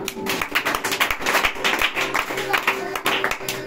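Church congregation applauding to acclaim Jesus, with rhythmic clapping that holds steady throughout, loud and close, while voices carry on underneath.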